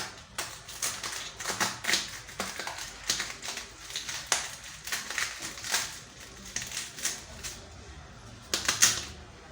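A knife cuts through cabbage on a cutting board while preparing a vegetable salad, giving a steady run of crisp, close chopping taps with short pauses between strokes.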